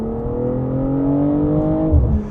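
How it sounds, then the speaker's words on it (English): A 2025 BMW M440i coupe accelerating hard and holding its gear toward redline, engine note rising steadily in pitch from inside the car, loud and continuous, then a brief shift thump near the end. "I mean, it just holds the gear until red line"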